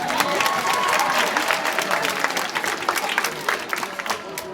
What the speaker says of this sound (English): we can clap for him anyway